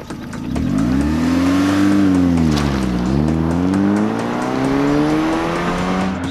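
Opel car engine revving up hard during a power measurement, a loud sustained roar that rises in pitch, dips briefly, then climbs again and holds near the top.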